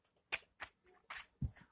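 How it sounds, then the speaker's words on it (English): Tarot cards shuffled by hand during a reading, a few quick papery riffles and flicks in irregular bursts, close and fairly faint with no voices. "give me a second so I can shuffle these cards"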